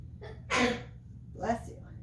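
A single sneeze during a living room yoga session for foot and ankle care: a short breath in, then a sharp burst, followed by a softer exhale, close to the microphone.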